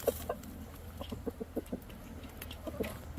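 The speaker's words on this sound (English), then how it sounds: "That's that funny clucking noise he does when he clucks like that when he finds something interesting" A Wyandotte rooster named Jack gives a run of soft, rapid clucks after finding something interesting, quiet and close, in short bursts with brief pauses.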